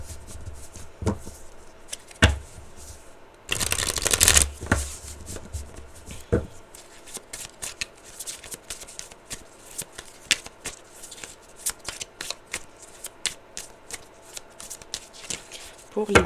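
Tarot cards being shuffled up close, with a burst of rapid riffling flutter followed by scattered soft slaps and taps of cards being handled, while someone talks throughout.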